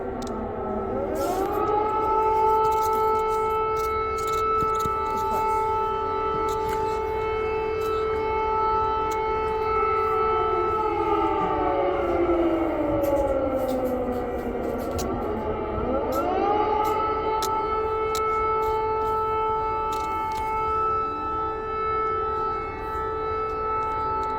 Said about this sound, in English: air raid alerts are a daily and multiple times per day threat